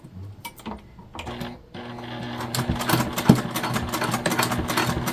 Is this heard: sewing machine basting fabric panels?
yes